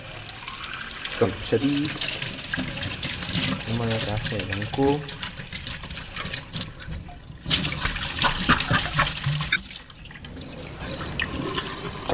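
Cold tap water runs steadily into a sink while a hookah is rinsed out, a continuous close splashing rush with a voice talking over it.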